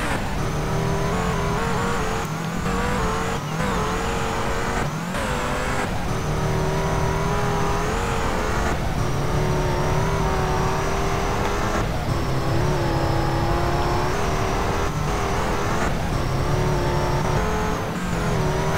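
Motorcycle engine in GTA San Andreas, a steady loud drone running continuously with slight rises and dips as the bike is ridden along a road, no talk over it.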